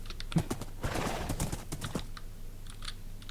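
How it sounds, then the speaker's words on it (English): Horse hooves clopping uphill in Minecraft, a quick run of hollow, irregular steps loudest in the first two seconds before thinning into a few scattered taps over steady game ambience. "I'm going to have to scale this hill on horseback"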